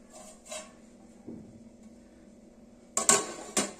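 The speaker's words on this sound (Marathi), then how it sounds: "भांडं व्यवस्थित सेट करायचे." A metal cooking pot is set in place for baking a millet cake, giving a few clanks and knocks; two sharp metallic clatters near the end are the loudest, against a quiet background.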